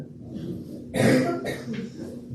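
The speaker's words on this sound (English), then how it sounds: "I've been battling a cough for 2 weeks, so I apologize for that." A single burst of coughing from one person with a lingering cough, fairly close, at a candidates' forum, set against a low steady background hum.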